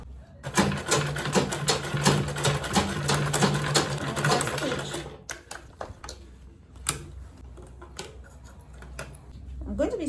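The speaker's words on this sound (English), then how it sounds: "I'm just going to top stitch." A sewing machine top stitches a fabric makeup bag with zipper and lining, its rapid mechanical whirr running steadily and loudly for several seconds, then stopping and restarting in shorter bursts.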